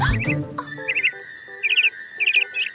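A cartoon character chirps in bird language, a voice imitating birdsong: a clear rising whistle followed by several short bursts of quick, bright trills separated by brief pauses, close and without speech.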